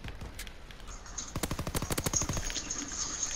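Rapid automatic gunfire from the Call of Duty WWII video game, a long burst of evenly spaced shots in the middle of the clip, with a few scattered shots before it and a lingering ring after it.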